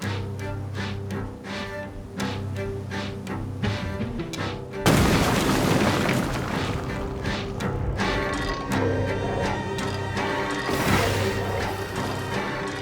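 A thunderous bomb explosion in a Turn A Gundam anime episode bursts out midway through a dense, rumbling soundscape of booming blasts and crashing debris, loud and sustained.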